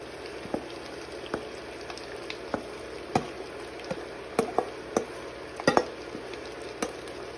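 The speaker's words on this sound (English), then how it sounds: "we're gonna add our okra that we cut up earlier" Cut okra frying in a pot with onions and tomato for Liberian fried okra gives a low steady bubbling hiss, broken by sharp scattered pops and utensil taps at irregular intervals, with no one talking.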